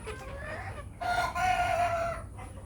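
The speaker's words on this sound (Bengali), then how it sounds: "এখন দেখাবো ডিম পাড়া দেশি মুরগি যারা ডিম পাড়তেছে" A native laying hen clucks close by, then lets out a drawn-out, tonal call before quieter clucking resumes.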